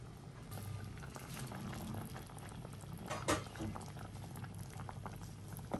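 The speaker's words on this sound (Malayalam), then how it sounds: "നമുക്കിനി ഇത് അടച്ച് വെച്ച് ലോ ഫ്ലെയിമിലിട്ട് തിളപ്പിച്ചെടുത്താൽ മതി." Fish curry bubbles steadily in a covered pot on low flame, a continuous simmering patter with occasional louder pops, close and even throughout.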